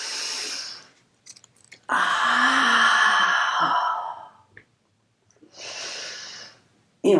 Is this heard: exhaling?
yes